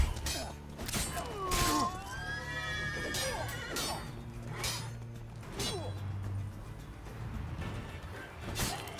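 A horse in The Witcher 3: Wild Hunt lets out several loud whinnies and snorts over a few seconds, mixed with clopping hooves, clanks and other game effects in the background.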